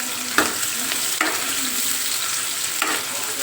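Ingredients sizzling in hot oil in a home kitchen pan, a steady bright crackle and hiss with a few short scraping stirs, close and alone with no talk.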